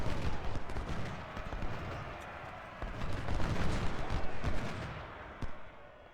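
Massed musket volleys fired into an enemy flank in a Civil War battle game with a realism mod, producing a continuous crackle of overlapping shots and rolling reports at moderate distance.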